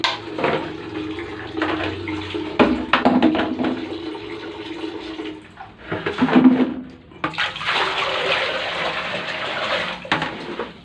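Water poured into a clogged toilet, a loud continuous rushing splash that breaks off briefly around the middle and then resumes just as strongly. No talking is heard.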